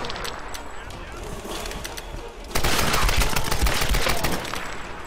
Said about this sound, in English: Pretty sure I've said that I dislike the assault rifle in this game.